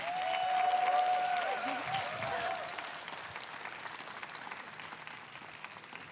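Audience applause for a rapper at a live talk event, a loud burst of crowd clapping that gradually thins and fades, with a brief voice near the start.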